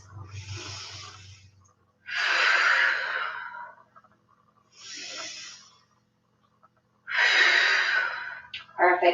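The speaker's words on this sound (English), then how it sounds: "Take 2 more deep breaths." Slow, deep yoga breaths sound close and alone: four long airy inhales and exhales, separated by short quiet pauses, with a brief sniff at the very end.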